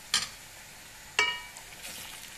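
Meatballs and onions frying with tomato paste for an okra stew, a soft sizzle broken by two sharp clanks of a utensil against the pan; no voices.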